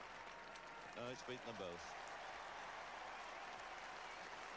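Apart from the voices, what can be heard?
cricket crowd applauding at Headingley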